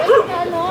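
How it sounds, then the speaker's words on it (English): A dog guarding a small shop along Manila Bay in the evening gives a single short, sharp bark or yip, loud and close, then quiet street ambience. "Doggy guarding the"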